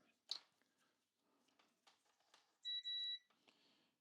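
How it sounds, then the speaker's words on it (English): A multimeter set to continuity gives two short, bright electronic beeps while testing a CGL Super Kong handheld game, following faint clicks and handling noise from the probes on the contacts. "So we'll put our meter on continuity."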